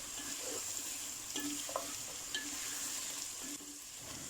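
Bottle gourd (lauki) pieces frying in a pan, a steady low sizzle and crackle with occasional soft stirring scrapes, moderately quiet and continuous with no talking.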